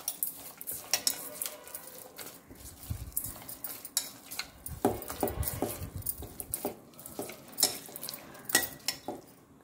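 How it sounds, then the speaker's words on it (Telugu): Salt and spices being mixed for eggplant masala: a spoon scrapes and clinks against a metal bowl in quick, uneven strokes, close and fairly quiet, with no talking. "ఇవి బాగా మిక్స్ చేసుకోవాలి,"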